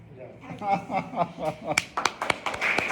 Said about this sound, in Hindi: बहुत बढ़िया, ताली।